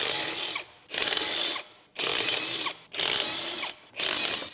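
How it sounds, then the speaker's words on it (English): A pneumatic impact wrench with a 19mm long socket hammers lug nuts off the front wheel of a 2012-2015 Chevrolet Cruze. It fires in four or five loud, close bursts of rapid rattling with brief gaps between them. "Use the 19mm long socket together with the impact wrench."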